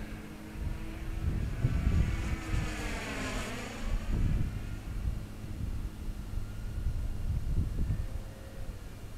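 A 28-year-old vintage Mystic 90 pattern RC plane flies overhead on its maiden flight, its engine whine rising and falling in a Doppler sweep as it passes, over steady wind noise outdoors.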